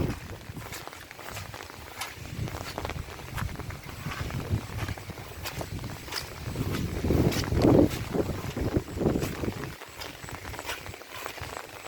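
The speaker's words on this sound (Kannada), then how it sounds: "ನೋಡಿ ಜೋರಾಗಿ ಗಾಳಿ ಬರ್ತಾ ಇದೆ." Strong wind gusts rush and buffet across the microphone, swelling louder midway and easing near the end, with faint rustling and movement underneath.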